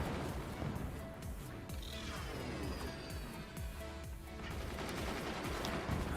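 Mortar fire in the real-time strategy game Forts, a steady battle din of repeated muffled gunfire thumps and crashes with no clear standout blast, moderately quiet throughout.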